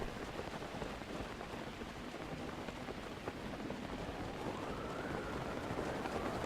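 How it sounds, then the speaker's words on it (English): Steady rain falling in the video game Breath of the Wild, a constant hissing patter of drops that holds at an even level throughout, with a faint tonal sweep rising near the end. "Oh, great. Rain."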